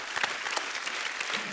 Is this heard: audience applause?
yes